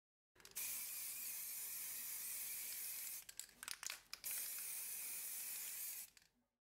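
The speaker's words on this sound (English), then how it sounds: "We'll begin by giving it a black spray." Black spray paint hisses from an aerosol can onto a miniature's base in long continuous bursts, close and steady, broken by a few short sputtering pulses midway before a final burst tails off.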